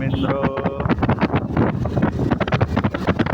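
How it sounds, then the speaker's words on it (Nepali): Strong wind on a highway buffets the microphone with continuous rumbling gusts, loud and close, with a brief tonal whine near the start. "क्या सुलुल्लै हावा आएको यार"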